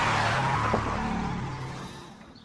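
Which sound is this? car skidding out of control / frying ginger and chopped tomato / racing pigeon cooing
car skidding out of control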